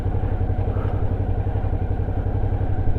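A Suzuki V-Strom motorcycle rides off-road, its engine a loud, steady low rumble close up, with a continuous rhythmic pulsing and faint clatter from the rough ground.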